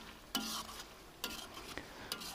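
Chicken karahi masala with tomatoes being stirred in a pan, three distinct scraping strokes over a soft, continuous sizzle.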